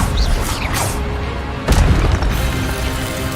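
A fire spell cast in combat in the video game Hogwarts Legacy, a sudden whooshing burst with a low boom in the middle of the clip, over a continuous dense rumble of game effects and music.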